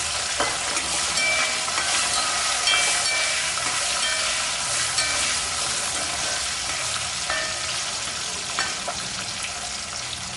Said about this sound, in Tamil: இப்போ கருவேப்பிலையை போட்டுக்கலாம் பூண்டையும் சேர்த்துக்கலாம்